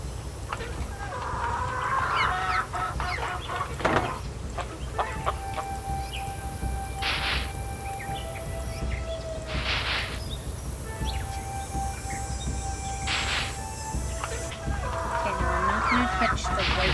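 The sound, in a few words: chickens clucking in Nancy Drew Secret of Shadow Ranch video game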